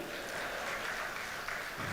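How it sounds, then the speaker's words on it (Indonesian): An audience at an Indonesian comedy show breaks into brief applause, a dense, even wash of clapping with no voices over it. "Tepuk tangan buat Kamiti."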